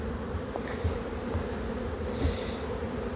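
Honeybees from a young colony buzz steadily and close, a dense continuous hum with occasional louder passes of individual bees, and no voices.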